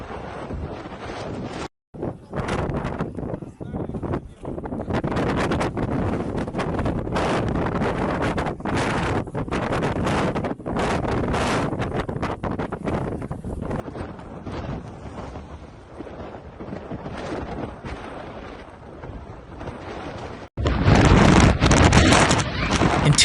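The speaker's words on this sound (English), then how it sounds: "A blizzard is sweeping across Siberia." Blizzard wind in Siberia blowing hard and steadily, a dense, roaring rush with gusts and heavy buffeting on the microphone that grows louder at the end.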